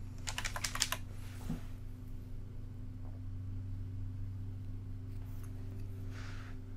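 Someone types dark mode into a plugin search box on a computer keyboard, giving a quick burst of keystrokes near the start. A steady low hum runs underneath, and a few softer clicks follow later.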